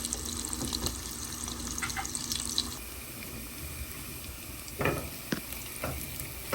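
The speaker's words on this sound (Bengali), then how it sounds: "তেলে দিয়েছে কুচানো পেঁয়াজ" Chopped onions frying in a little hot oil in a pan after shrimp, giving a steady sizzle with a few short utensil scrapes and clinks, close up with no talking.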